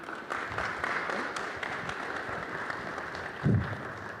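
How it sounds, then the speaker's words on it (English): An audience applauds speakers after an intellectual property discussion, a steady wash of clapping from a mid-distance crowd with a brief louder burst near the end. "Give them another round of applause as they walk off stage."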